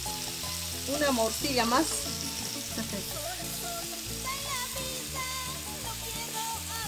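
Chorizo and blood sausage frying in a pan for Bolivian k'jaras, a constant close sizzle and crackle of fat, with a person speaking briefly over it.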